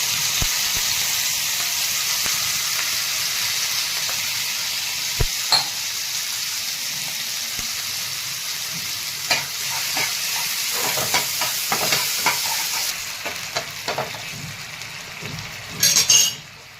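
Washed barnyard millet (bhagar) sizzles steadily in hot oil in a home kitchen pan, with a continuous bright frying hiss, occasional clinks and stirring scrapes, and a few louder pops near the end.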